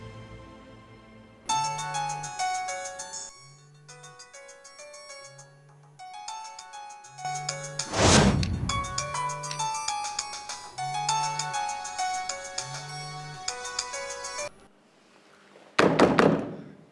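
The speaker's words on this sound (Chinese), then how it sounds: "还给他手机打了电话" A mobile phone rings from an incoming call, a repeating electronic melody with steady low pulses running for about thirteen seconds, broken by two loud knocking thuds on a door; no one speaks.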